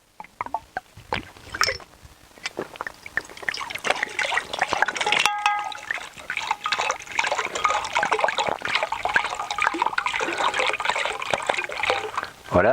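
Stainless steel plates are set into about one litre of water, with close splashing and sloshing followed by a steady trickling, liquid churn that keeps going to the end.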